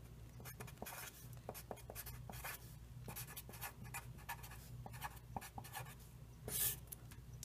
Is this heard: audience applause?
no